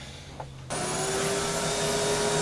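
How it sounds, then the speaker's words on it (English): An Aspiron 1200W canister vacuum cleaner switches up to high suction, a sudden jump into a loud, steady roar with a high whine, running alone and close. "when you turn it up to the high vacuum or the high suction"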